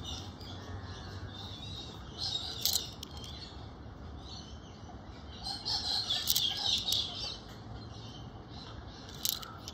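Harsh, raspy screeches from a flock of cockatoos rise in bursts over a steady outdoor hum, moderately distant and fairly faint, with several louder squawks standing out.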